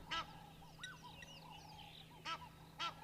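Egyptian geese honk in loud, harsh bursts, one near the start and two close together near the end, with softer calls and other birdsong filling the gaps against a steady low hum.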